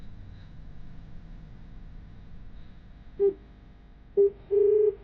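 Three short electronic phone dialing tones sound over a quiet background hiss, two brief beeps followed by a slightly longer one.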